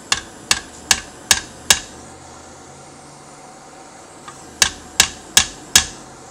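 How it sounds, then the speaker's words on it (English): Sharp metallic hammer blows set rivets into a steel Browning 1919 side plate, ringing out in two quick bursts of five, evenly spaced, with a short quiet gap between them. "It's more interesting to watch me do it with a hammer though"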